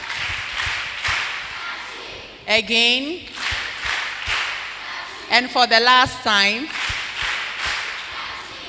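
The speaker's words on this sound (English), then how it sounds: "let's give them the cha-ching clap" An audience at a Day of the African Child roadshow performs a rhythmic group clap in sharp, loud bursts of synchronized claps, with a presenter talking between the rounds.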